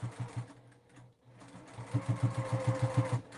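Sewing machine stitching a quarter-inch seam with a seam guide on a fabric pocket folder, a close run of quick even needle thumps that starts, pauses briefly, then speeds into a steady rapid rhythm.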